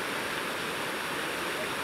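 Steady, dense roar of a waterfall heard from nearby at a river meeting point, an unbroken rushing wash of water with no other sounds standing out.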